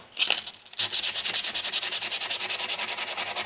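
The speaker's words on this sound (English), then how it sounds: "now I just need to rough up these surfaces so that the glue has a good surface to adhere to" Wood pieces for workbench table levelers are roughed up by hand before gluing, a few scattered scrapes followed by fast, regular back-and-forth rasping strokes, close and loud with an even rhythm.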